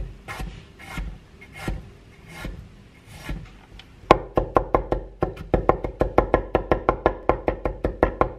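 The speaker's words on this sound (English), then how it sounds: "Then we have to chop the garlic, and just the small pieces of ginger should be enough" A knife chops garlic and ginger on a wooden board for dumpling filling, starting with slow scraping strokes and then switching to rapid, even knocking chops repeated about three times a second, close and crisp.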